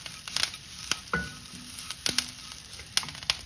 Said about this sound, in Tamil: இப்போ இதில் நம்ம 2 கொத்து நம்ம கருவேப்பிள்ளையை போட போகிறோம்